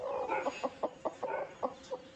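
A hen clucks in a steady, rhythmic series of short clucks, close and fairly soft, over a faint background hum.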